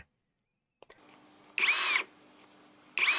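An OSUKA OSID-520 brushless cordless impact driver, set to reverse, whirs in two short bursts, about half a second each, with a quiet mechanical hum in between.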